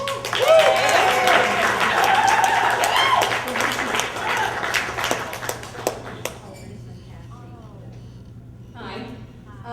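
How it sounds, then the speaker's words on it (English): Wedding reception guests applauding, a crowd clapping loudly for several seconds, then thinning into scattered claps as a voice begins speaking over a microphone. "Big clap for her."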